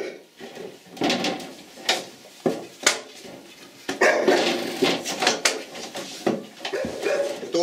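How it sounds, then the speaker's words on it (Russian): An aggressive shar-pei barks in sharp, separate bursts, a few loud volleys spread unevenly among clattering household knocks nearby, then a busier run of barking toward the end. "Это очень агрессивный лай."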